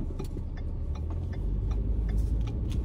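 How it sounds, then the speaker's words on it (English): Road traffic rumbles steadily close by, a continuous low engine drone of passing and idling cars with faint ticking and clicks above it, no one speaking. "Well, got traffic."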